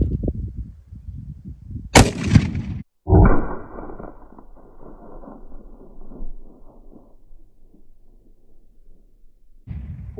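A single .50 BMG rifle shot into a termite mound outdoors, preceded by low rumbling, then a sharp loud crack followed by a booming impact and a long fading rumble.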